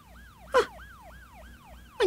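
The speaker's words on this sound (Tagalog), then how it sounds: "Ano dahil kaya sirena?" A police siren wails in a regular rising-and-falling cycle, repeating about five times at a steady pace, fairly close and clear, with two short louder bursts of other noise cutting in.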